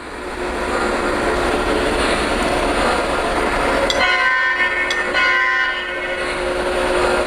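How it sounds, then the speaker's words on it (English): A model diesel train rumbles past a grade crossing on a layout, a steady mechanical roar with a high tone, while a series of short bell-like chimes rings out partway through. "There, the lights start to flash for the grade crossing, and the diesel is coming on through."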